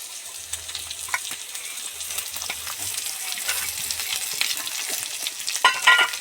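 Onion and half-fried garlic sizzling in oil in a pan, a steady crackling fry with occasional stirring scrapes that grows slightly louder toward the end.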